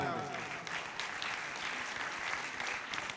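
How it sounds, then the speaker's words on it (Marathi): An audience at a speech applauds for the people of Indapur, a fairly faint, continuous patter of many hands with some crowd murmur mixed in. "मला एकदा सगळ्यांना विनंती करतो की इंदापूरकरांसाठी जोरदार टाळ्या होऊ द्या"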